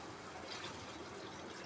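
Water poured into a pan of paneer masala curry after the onion-tomato base is fried until the oil separates, a steady faint splashing gush lasting the whole moment with no talk.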